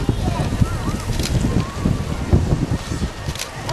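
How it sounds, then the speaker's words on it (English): Strong wind buffets the microphone at an outdoor Battle of Britain weekend event, producing a rough, rumbling roar with irregular gusty bursts, while faint talk sits underneath. "the winds are a little bit strong once they hit the ground"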